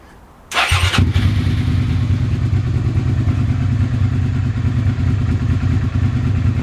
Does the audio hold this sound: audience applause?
no